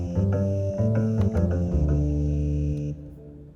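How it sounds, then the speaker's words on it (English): Acoustic bass synth patch from the Logic Pro DLS Music Device playing a short run of low plucked notes in quick succession, the last held note fading out, clean and upfront with no voices. "How about this acoustic bass?"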